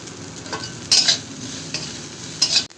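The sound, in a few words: dried lote fish frying in mustard oil in a wok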